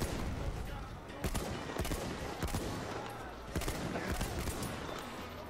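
Gunfire rattles through a Battlefield match, rapid bursts and single shots layered over loud, dense battle noise, with a voice speaking over the shooting.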